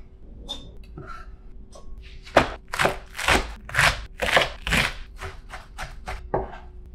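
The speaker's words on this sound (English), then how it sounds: "we're gonna cut up our veggies now" A knife chops vegetables on a cutting board in a steady run of close, crisp thuds, about a dozen quick strokes in a row.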